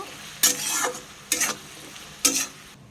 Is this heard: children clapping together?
no